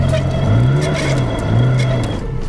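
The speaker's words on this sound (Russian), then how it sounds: "У него что, получается, одно колесо крутит сейчас?" A stuck Lada Niva with a broken half-shaft strains as one wheel spins, its engine revving loudly in two rising surges, with voices nearby.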